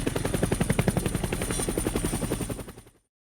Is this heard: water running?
no